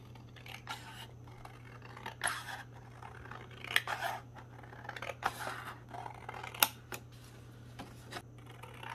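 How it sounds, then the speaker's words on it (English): Scissors snip through journal page paper in a series of crisp close cuts with paper rustling between them, over a low steady hum. "I think I'm gonna have to cut this down a bit."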